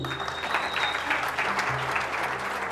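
An audience claps steadily, a dense wash of applause filling the room without pause.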